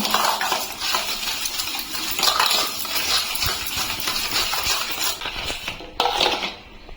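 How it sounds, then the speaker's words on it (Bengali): A sugar mixture being whisked in a bowl for biscuit dough, with a fast, steady scraping and clinking of the whisk against the bowl, close and continuous, pausing briefly near the end, no talking. "এখন আমি সব কিছু একসঙ্গে ভালো করে একটু ফেটিয়ে নেব"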